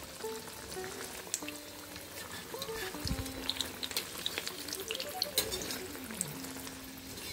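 Black chickpea vadai sizzling and frying in hot oil, a steady crackling bubble heard close up, with faint background sounds and no clear talk.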